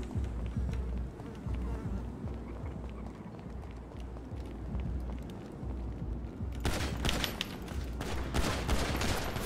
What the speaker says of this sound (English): they shooting a motherfucking AK